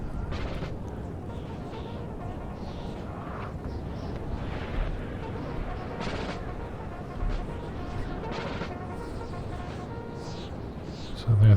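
Artillery pieces fire in a steady battle din, with scattered dull booms and cracks over a constant rumble, and voices talk now and then.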